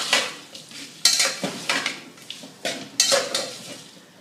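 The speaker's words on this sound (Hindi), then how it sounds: "so go on roasting it as much as you can" Chicken roasts in a pan with dry spices as a spoon stirs and scrapes it in repeated strokes, each sharp clatter followed by a short burst of sizzle, close and loud.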